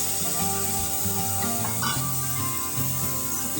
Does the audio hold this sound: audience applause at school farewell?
no